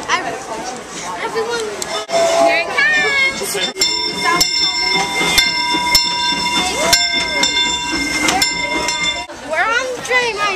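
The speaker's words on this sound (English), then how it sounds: "We're on the train right now. It's about to leave the station." A Disneyland train pulls out of the station with rattling wheels and clanks, while people chatter and call out excitedly close by throughout.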